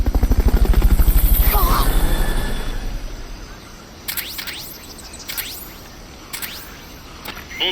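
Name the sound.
Fulton recovery helicopter pickup, Metal Gear Solid Peace Walker video game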